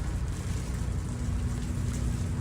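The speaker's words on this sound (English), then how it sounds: "It is raining out" Steady rain falls outdoors on a city street, a soft continuous hiss of drops with a low background hum, fairly quiet and without voices.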